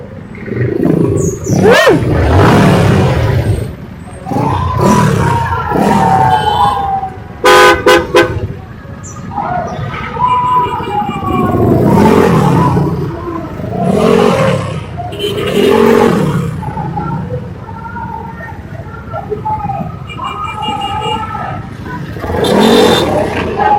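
Heavy street traffic in Binakayan, Cavite during a June 12 Independence Day rally, with car horns tooting repeatedly over a steady roar of engines, heard close from a moving motorcycle.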